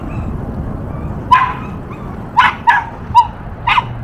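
A pet dog gives five short barks and yips in an irregular burst, close by and fairly loud over a steady low rumble of background noise.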